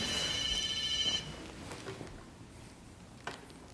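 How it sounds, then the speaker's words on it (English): A telephone ringing during an improvised scene, its bright electronic trill sounding loud and steady for about a second before cutting off and leaving quiet room tone, with no talk. "Phone rings 3, 4 times, I pick it up and it's my mom and everybody laughs."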